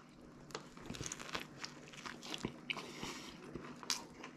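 Someone bites into and chews a leftover sandwich with toasted onions close to the mic, with repeated crunchy bites and wet chewing in an uneven rhythm, alone without talk.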